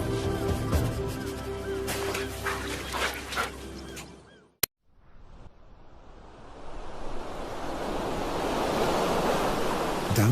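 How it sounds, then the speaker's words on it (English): Ocean surf rolls in where the Orange River meets the sea on the African coast, a broad wash of waves building steadily after an opening stretch of tonal music and a sharp cut. "where the river meets the sea."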